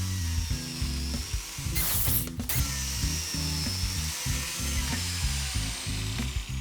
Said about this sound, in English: To know where I'm going to cut, all you do is match this red mark up on my biscuit cutter to the mark that I've made on the wood.